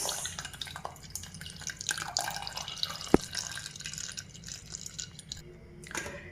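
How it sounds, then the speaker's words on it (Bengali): Raw mango and mint juice strains through a sieve, giving a steady close trickle with scattered drips and one sharp drop near the middle; no one speaks. "এবার এটাকে আমি একটা ছাঁকনি দিয়ে ছেঁকে নিচ্ছি তাহলে যে শক্ত অংশগুলো রয়েছে সেগুলো আলাদা হয়ে যাবে আর নিচ থেকে বেরিয়ে আসবে সেই কাঁচা আমের জুস"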